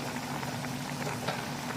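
Cochinita pibil sauce simmers slowly in a pot, a soft, continuous bubbling hiss with faint pops, steady and close with no voices.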